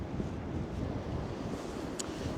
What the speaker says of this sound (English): waves with some of the tops being blown off by this easterly wind